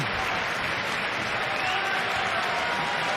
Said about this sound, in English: The crowd here in Nantes, France shows their appreciation after the hard-fought battle.